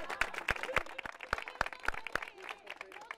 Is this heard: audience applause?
yes